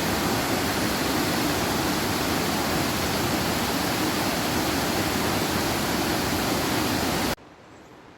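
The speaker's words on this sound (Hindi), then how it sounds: "अब हमें इस झरने को पार करके वहाँ जाना है, वो रास्ता है।" Mountain waterfall on a Himalayan foot trail from Gangotri to Kedarnath, a steady loud broadband roar of rushing water heard close by that cuts off abruptly near the end.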